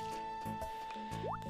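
Short watering splashes and plops in the Harvest Moon farming game as crops are watered, with small digital tones and a rising chirp over a quiet music bed, no talking.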